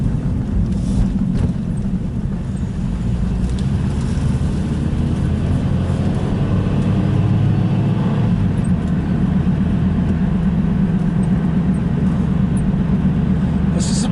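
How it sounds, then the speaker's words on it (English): Continuous low road rumble from inside a moving car on a busy road on Christmas Day, with engine drone and tyre noise steady throughout and a few passing vehicles swelling and fading. "There's a surprising amount of traffic on the road."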